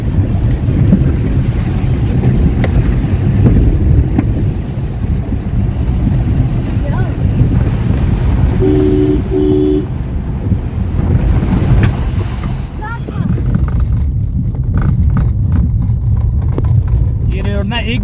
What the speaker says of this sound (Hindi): एक और वाटर क्रॉसिंग है, और ये थोड़ी खतरनाक सी लग रही है